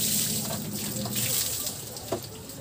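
Water is poured over a Honda Click 125 motorcycle during washing, a steady broadband splashing rush with a couple of brief louder splashes, close by.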